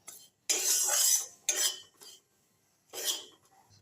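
Rice flour dry-frying in a pan over a lowered gas flame, stirred with a spoon in short separate bursts of scraping and rubbing, with near-silent pauses between strokes.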